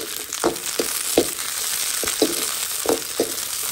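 Onions sautéing in hot oil in a pan for a shrimp and snow pea stir-fry, a steady close sizzle punctuated by several quick stirring scrapes, no talk.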